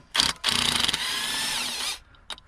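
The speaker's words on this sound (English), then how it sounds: "So we're gonna need now our hammer drill." Power drill, a hammer drill used in work on a T1N Mercedes Sprinter, whirring in two short bursts and then a steady whine of about a second before it winds down, close and loud.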